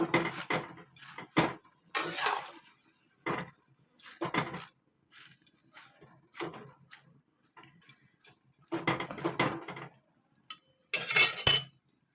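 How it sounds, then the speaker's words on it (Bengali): Cabbage being stirred in a pan gives scattered scraping and clinking of a utensil against metal, in short irregular bursts with quiet gaps, close and fairly loud. "এক কেজি বাঁধাকপি ছিল দেওয়ার পরে এটাকে একটু নেড়ে ছেড়ে দিতে হবে"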